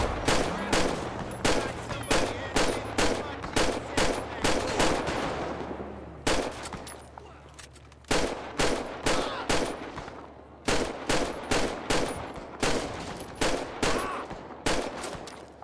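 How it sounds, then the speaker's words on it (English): Rapid, loud gunshots fire in steady, repeated volleys with short pauses between bursts, sharp and close. "Does no one hear the gunshots?"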